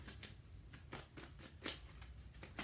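Tarot cards are shuffled by hand at close range, quiet riffling bursts repeating in an uneven rhythm of about eight soft pulses.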